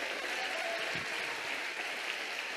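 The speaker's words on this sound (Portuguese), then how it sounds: "aplauda com força" A church congregation claps steadily throughout, a dense continuous patter of many hands heard at a distance, fairly faint, with no voices standing out.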